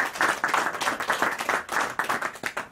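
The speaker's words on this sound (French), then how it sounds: "applaudissez pour vous-même" A crowd at a party meeting in Marseille applauding, lively rhythmic clapping with uneven bursts that holds steady for the whole moment, fairly near and loud.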